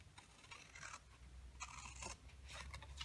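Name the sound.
cutting paper notches for a treat box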